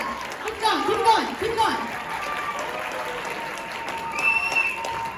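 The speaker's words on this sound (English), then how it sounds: "can we get a round of applause for our MCs?" Audience applause for the MCs at a Northwestern University SASA 2022 show, steady clapping for several seconds with shouting and cheering voices over it.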